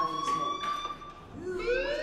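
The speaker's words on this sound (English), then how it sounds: "Hey, do you hear that fire alarm?" Electronic fire alarm ringing inside a school in the video game Life is Strange, a steady high tone that wavers and shifts pitch over two seconds, fairly quiet beneath faint background sounds.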